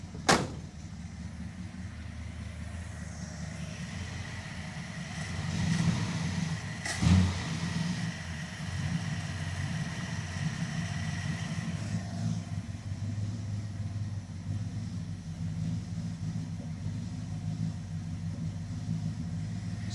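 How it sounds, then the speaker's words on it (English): A Dodge Charger converted to a crew cab runs with a slightly misfiring engine, a steady low rumble with small uneven stumbles and one sharp knock near the middle, heard close and without talk. "Yeah, she's still misfiring just a little bit."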